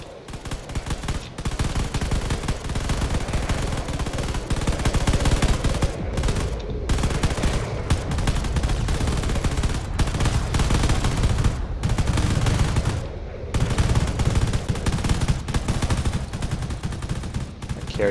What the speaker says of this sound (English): Trying to help the other frigates by firing at that carrier.